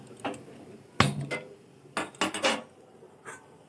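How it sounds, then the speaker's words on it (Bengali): A karahi (wok) is set onto a gas stove, giving several close, sharp metallic clanks and knocks in an uneven cluster with short pauses between them. "কড়াই বসিয়ে দেব।"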